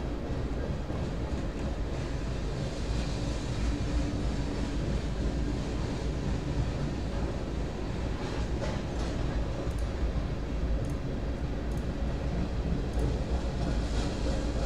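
A train rumbles past near a station, a continuous heavy roar with faint clattering and squeaks, steady and fairly loud for the full stretch.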